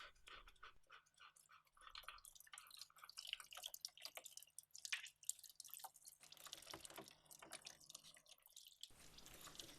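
Diesel fuel drips and trickles from an opened fuel filter housing on a Yanmar tractor whose shutoff valve has failed. The close, faint patter of rapid irregular drips plays alone, with no talking.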